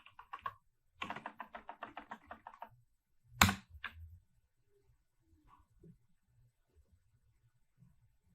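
A computer keyboard is typed on in a quiet room: a quick run of about a dozen even keystrokes, a louder clack, then a few scattered soft taps.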